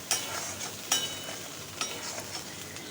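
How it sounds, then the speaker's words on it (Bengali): Poppy seeds stirred into fried ridge gourd in a pan: a soft continuous sizzle with a few sharp scraping taps of the spatula against the pan, close and fairly quiet, no voices. "পোস্ত দিয়ে এইভাবে বেশ নাড়াচাড়া করব আর একটুও জল দেব না"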